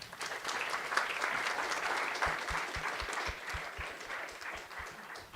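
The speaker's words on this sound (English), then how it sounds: "Round of applause." An audience claps for a team at the finals of a women-in-tech hackathon. The applause is sustained and fairly dense throughout, with a few louder individual claps near the end.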